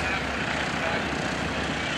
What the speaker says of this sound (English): one of the little airplanes that you're watching flying right now